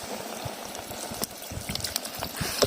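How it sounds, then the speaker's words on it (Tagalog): Water bubbles and rolls at a steady boil, with dense gurgling and occasional louder pops and clinks nearby. "Yun o, kumukulo na o"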